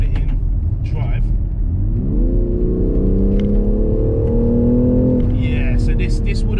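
A BMW X3 M Competition SUV engine, rated 510 bhp, revs up in M2 mode and holds a steady, rising drone as the vehicle accelerates, with faint clicks and a voice at the edges.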